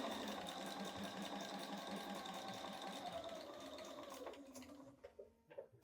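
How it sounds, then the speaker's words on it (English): A sewing machine stitches a quilt block in one steady, close run, then slows to a few uneven stops near the end. "let's go to the machine and actually stitch that"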